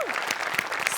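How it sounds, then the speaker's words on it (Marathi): Audience at a live Marathi comedy stage show breaks into a dense, steady burst of clapping, loud and continuous for the full second. "तर त्यांच्यासाठी एकदा जोरदार टाळ्या."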